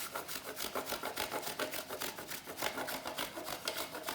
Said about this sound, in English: Just grate the chocolate onto it.